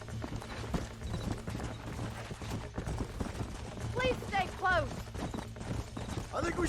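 Horse hooves clip-clop at a steady gait in Red Dead Redemption, a continuous moderate-level clatter with a few brief vocal sounds over it.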